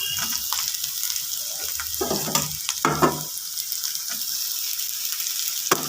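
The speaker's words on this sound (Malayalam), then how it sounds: "അരിഞ്ഞു വെച്ചിരിക്കുന്ന വെണ്ടയ്ക്ക ഇട്ട് കൊടുക്കും" Chopped okra fries in a hot pan with a constant crackling sizzle, broken by a few scraping stirs and clinks close by.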